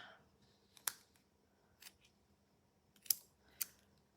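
Scissors trim twine in a few sharp, close snips, scattered over a few seconds in a quiet room.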